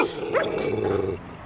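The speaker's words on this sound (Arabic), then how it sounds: "هو الكلب بقى شرس مرة واحدة كده ليه؟" Dog in the streets of Alexandria, Egypt, that has turned aggressive toward a BMX rider, giving a growling, whining snarl with short barks, close and fairly clear.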